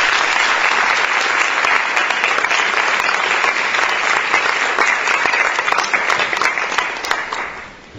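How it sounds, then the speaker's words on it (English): A crowd at an awards ceremony applauds steadily and loudly, dense clapping that holds for several seconds before tapering off at the end. "So let's join in a round of applause for Sondra Miller."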